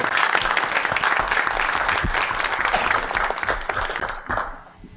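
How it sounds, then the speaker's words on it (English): A council meeting audience in the City of Commerce gives a round of applause, a thick wash of clapping that holds steady for about four seconds and then fades out quickly at the end. "if we could all just give them a round of applause"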